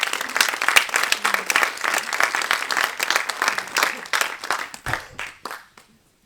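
Applause from a conference audience, a dense steady patter of many hands clapping that thins out and fades to a few scattered claps near the end.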